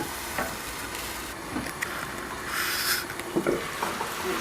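Meat fries in a pot for a Somali rice and meat dish, giving a continuous soft sizzle broken by scraping stirs and small pops, fairly close and with no talking.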